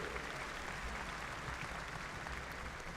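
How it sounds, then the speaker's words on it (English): A university commencement audience at a spring graduation ceremony applauds, a steady broadband wash of distant clapping heard faintly and evenly from far across a large hall, with no voices on top. "Give them a big round of applause."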